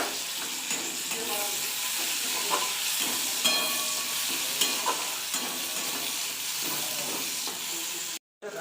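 Chopped tomato pieces fry in oil with softened onion in a pan, giving a steady close-up sizzle marked by periodic stirring scrapes, with a brief drop to near silence just before the end.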